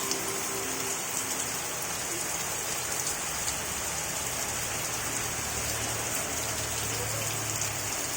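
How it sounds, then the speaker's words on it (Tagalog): Heavy rain pours down, a dense, loud, unbroken hiss of drops drumming on surfaces close by, steady from start to finish with no speech over it. "kakusog sa uwan"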